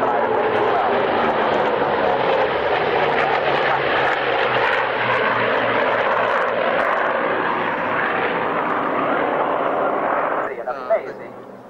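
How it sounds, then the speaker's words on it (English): A Grumman F8F-2P Bearcat fighter flies at the 1997 Duxford Flying Legends airshow, its piston engine a loud, sustained growling roar that holds for about ten seconds before abruptly dropping away, with a commentator's voice over it. "Amazing aerobatic airshow performer, as indeed are the two Bearcats."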